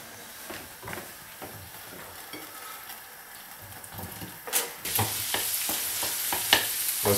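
Chicken livers fry in a pan: a quiet sizzle with light scraping at first, then a louder surge of hissing after the livers go in, with sharp stirring clicks and no voices.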